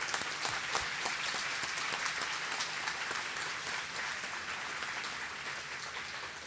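A roomful of people at a 100th anniversary banquet applauds steadily, a dense, even patter of clapping that holds for several seconds.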